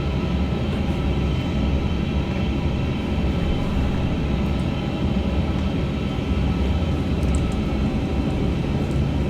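Airbus A380 rolling along a runway at Dubai in Flight Simulator 2024, a steady broad jet-engine roar that holds level and close throughout, with no talking.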